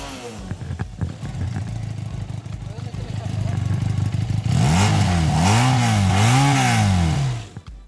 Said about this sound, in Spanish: Sí, es 300 centímetros cúbicos y es un motor bicilíndrico.